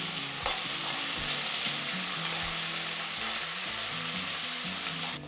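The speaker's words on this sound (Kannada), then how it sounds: "ಸ್ವಲ್ಪ ಈರುಳ್ಳಿನ ಬಾಡಿಸ್ಕೋಬೇಕಾ?" Chopped onion sautés in a pan for Indian-style poori sagu, a steady, close sizzle with occasional stirring scrapes, no voices over it.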